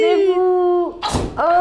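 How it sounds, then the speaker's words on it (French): A pet cat lets out a single sharp sneeze, a brief hissing burst that lands between stretches of a person talking nearby. "C'est mon chat qui éternue."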